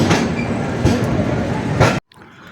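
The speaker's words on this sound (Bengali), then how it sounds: "ব্রহ্মপুত্র মেল ছুটে চলেছে দিল্লির উদ্দেশ্যে।" The Brahmaputra Mail express train runs along the rails toward Delhi near Pandit Deen Dayal Upadhyaya Junction, a loud close rumble with rhythmic clatter of wheels on rail joints, cutting off abruptly near the end.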